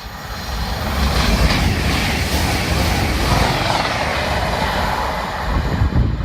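A CrossCountry train bound for Newcastle passes a station, producing a loud, steady roar and rumble that stays close throughout with no pause.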